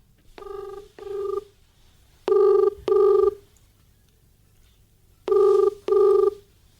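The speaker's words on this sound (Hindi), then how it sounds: "आसिफ जी को पहले फ़ोन लगाता हूं।" A telephone call rings through on the line with three clear pairs of double ring tones evenly spaced, moderately loud against near silence.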